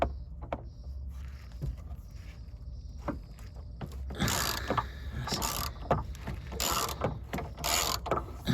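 A ratchet undoes a nut on a Jeep Grand Cherokee front lower suspension arm, first a few sparse clicks, then bursts of rapid loud ratcheting up close, with no talk.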